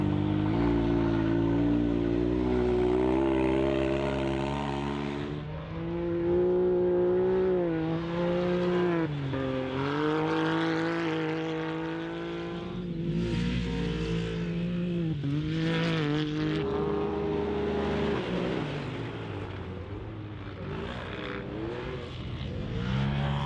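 X3 quad racing on a muddy track at the Mondial du Quad 2017, its engine revving hard and continuously with rising and falling pitch through gear changes, loud and close throughout.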